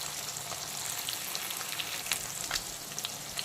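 Small mourala fish fry in hot oil in a pan, a steady dense sizzle with faint crackles and occasional pops, close and continuous with no talking.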